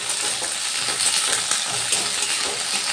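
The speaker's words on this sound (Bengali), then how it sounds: "এবার আমি শিমগুলো একটু ভেজে নেব" Cut flat beans frying in hot oil in a home kitchen pan, a steady bright sizzle with faint stirring scrapes, close and continuous without any talking.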